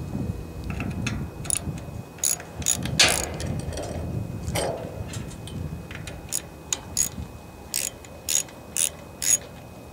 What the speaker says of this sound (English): the next step is we're going to loosen the drive drums